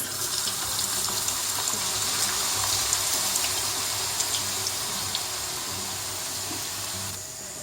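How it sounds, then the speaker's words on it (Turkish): Potatoes dropped into plenty of fully heated cooking oil for a potato omelette, producing a loud, steady broadband sizzle and bubbling that carries on evenly and close, easing slightly at the end. "Yağımız tamamen ısındı. Şimdi içerisine patateslerimizi ilave ediyoruz."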